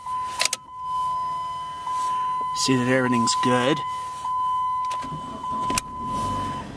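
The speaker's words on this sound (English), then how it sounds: "So we're gonna start the car." A car parked in snow and ice is started, its engine catching with a short cranking burst and then settling into a steady idle, while a person talks over it and a constant electronic tone runs throughout.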